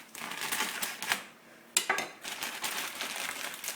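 A kitchen knife cuts through material in a series of irregular scraping and crunching strokes up close, with brief clicks and pauses between them.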